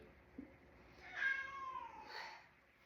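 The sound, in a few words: cat meowing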